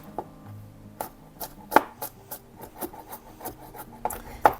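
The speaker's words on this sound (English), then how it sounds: "You can grate or chop about a tablespoon of ginger" Fresh ginger being grated or chopped on a board for vegan saag paneer, a close series of short rasping strokes and knife taps in an irregular rhythm.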